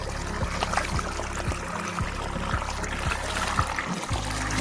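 Water runs steadily from a farm tap or hose while feet are washed, a close continuous splashing trickle with a few sharper spatters and no talking.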